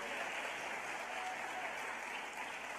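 Outdoor cheering section applauding at a teacher of the year celebration, a continuous faint wash of clapping heard at a distance, steady and dense without breaks.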